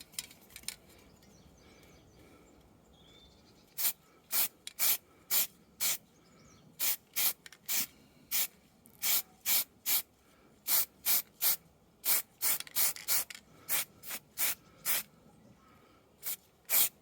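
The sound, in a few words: spray can spritzing white primer onto stalagmite models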